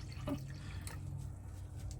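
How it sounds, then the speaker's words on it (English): Homemade kombucha poured into bottles, a short splashy pour with dripping liquid up close, then fading to quiet trickles. "And so we are going to fill our bottles."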